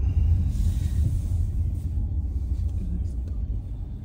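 Car driving along the road heard from inside, a steady low engine and tyre rumble that stays constant throughout, with voices talking over it.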